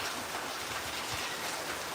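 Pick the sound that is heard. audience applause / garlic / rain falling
rain falling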